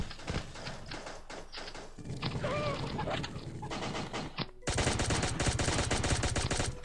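Rapid automatic gunfire in the mobile shooter Pixel Gun 3D during a team battle, bursts of fast shots rattling loudly over game sounds, getting denser and louder near the end.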